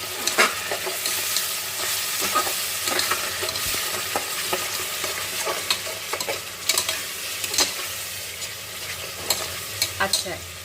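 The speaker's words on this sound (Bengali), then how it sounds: "আমি ভালো করে এবার কিন্তু মশলাটা কিন্তু একটু কষিয়ে নেবো" Spice masala for mutton vindaloo frying and being stirred in a pan, a continuous loud sizzle with scraping strokes of the spoon at irregular intervals.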